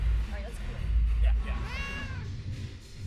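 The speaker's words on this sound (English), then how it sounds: "Hey, whose cat is this?" A cat meows backstage before a comedy special, a couple of short mews and then a longer drawn-out meow, close by over low rumbling room noise.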